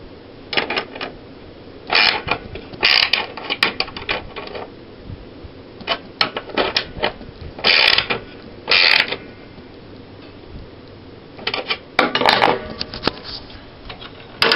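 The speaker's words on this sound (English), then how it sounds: "Once it's tightened by hand, then you'll go ahead and tighten it with a wrench." A wrench tightens a bolt on a screen printing press, giving intermittent metallic ratcheting clicks and creaks in short clusters with quiet gaps, close and moderately loud.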